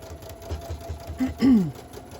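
A sewing machine stitching a long quilt seam with many points runs in a brief, steady burst, rising a little louder near the end.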